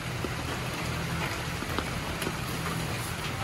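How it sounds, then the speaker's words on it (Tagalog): Heavy rain pours down in Kalinan, a loud, dense, continuous hiss and patter heard up close, with nothing else standing out above it. "Salubong namin yung napakalakas na ulan dito sa may Kalinan."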